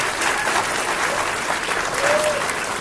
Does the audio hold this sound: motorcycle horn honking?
no